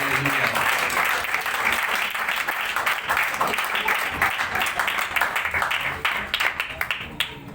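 A church congregation at an Urdu sermon bursts into loud, dense applause that stays strong for several seconds before breaking into scattered claps and fading at the end.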